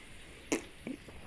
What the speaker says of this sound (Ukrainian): Я наче чихну